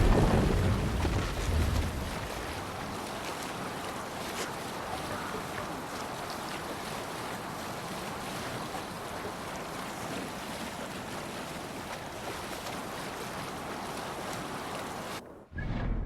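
A Viking longship in Assassin's Creed Valhalla sails across open sea, with steady rushing wind and splashing waves throughout and a louder surge of water at the start, then a brief drop near the end.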